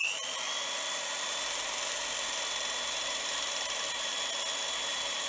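A BIAX power scraper works the top slide of a Myford 7x7 lathe in a constant high-pitched buzzing drone, steady and close throughout.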